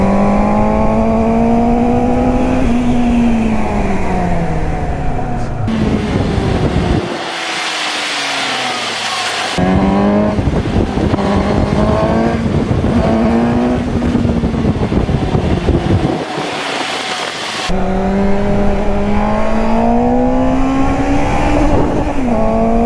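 A Suzuki GSX-S 750 motorcycle engine revs hard while being ridden on the road, climbing through the gears with drops in pitch at each shift. Loud and close throughout, with bursts of wind rush and no talking.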